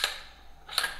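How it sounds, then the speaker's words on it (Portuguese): Air gun fitted with a 9mm conversion kit fired once, a sharp close crack followed by a brief mechanical snap, then a quiet gap before a second similar click and crack near the end. "efetua um disparo para ela chegar no ponto"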